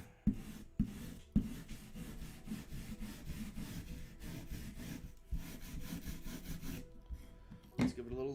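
Hand tool rasping and scraping along wood edges to bevel them, heard as rhythmic back-and-forth strokes with a few sharp knocks, close and fairly quiet.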